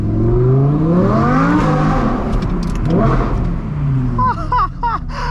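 Audi R8 Performance accelerating hard in winter, a loud close engine note sweeping up through gears with shifts, then quick sharp revs near the end.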